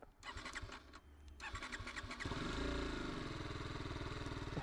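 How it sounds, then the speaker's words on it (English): A 2023 BMW G 310 GS motorcycle starter whirs in rapid pulses for about two seconds before the engine catches and settles into a steady, close idle. "listen to the starter and kind of how long the bike takes to start up."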